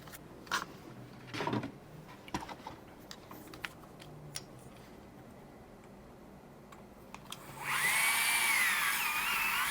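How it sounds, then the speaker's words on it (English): A small Tamiya hand drill bores holes for a Mini 4WD rear stay, giving scattered light ticks and clicks up close, then a sustained loud whirring grind near the end. "we have our handy-dandy Tamiya drill for that purpose"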